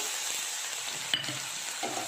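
Garlic goes into hot oil already holding nigella seeds, giving a soft, low sizzle and a single metallic clink of a utensil against the pan, fairly quiet and close.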